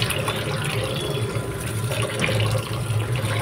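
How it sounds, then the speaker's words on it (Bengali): Rice being washed in water and then drained, with a steady rush of running, splashing water nearby, loud and continuous with no talking. "এবার এই চালটাকে ধুয়ে নিচ্ছি"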